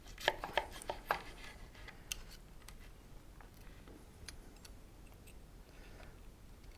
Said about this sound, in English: So we're going to go ahead and give the Q steak